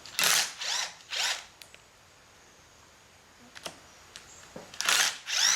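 Ratchet wrench clicking as bolts are loosened and removed from the engine plate of a Bobcat 632 skid steer, several quick bursts of close ratcheting separated by quiet gaps and a few light metallic clinks.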